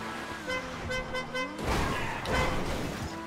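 A car horn honks in the video game GTA Online, a couple of short toots over a steady engine hum, followed by a louder burst of engine and boost noise.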